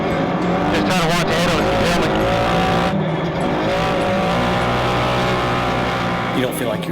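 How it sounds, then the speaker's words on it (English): A Can-Am Maverick Turbo UTV is pushed hard in a race, its engine howling with rising and falling pitch sweeps and a loud, continuous roar, while voices can be heard over it. "As Dustin and Shane push their Can-Am Maverick Turbo as hard as they possibly can"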